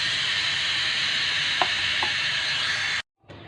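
Onions fried until browned, a steady loud sizzle filling the whole clip with two brief clicks of stirring in the pan, then a sudden cut to near silence and a fainter return of sizzling.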